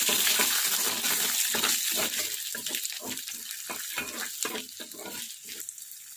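Ginger and garlic sizzle and crackle in hot oil close up, with bursts of spattering and occasional stirring scrapes.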